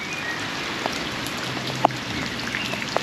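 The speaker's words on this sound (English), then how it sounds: "as you can see, it's raining." Steady rain falls in a park, a dense, even patter of drops hitting wet ground and puddles, with a few sharper drips standing out now and then and no voices.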